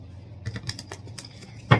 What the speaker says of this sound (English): I'm gonna shuffle now.